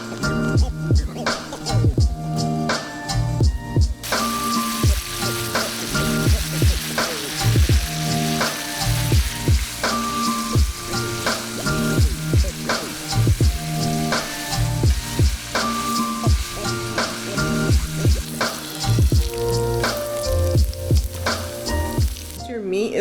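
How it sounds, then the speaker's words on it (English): Seasoned ground beef sizzles and crackles loudly in a pan, a continuous frying hiss throughout, with a voice talking over it. "you're just going to break it up into the pan and start to cook it down"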